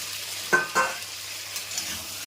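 Eggplant drops into a pan of rohu fish curry with ridge gourd, setting off two quick bursts of sizzling and stirring followed by a softer, continuous fry that cuts off abruptly.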